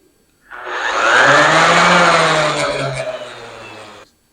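An orbital sander with a newly replaced hook-and-loop pad switches on and whirs at a high, steady pitch for about three and a half seconds, then winds down and stops, close and loud with no talk.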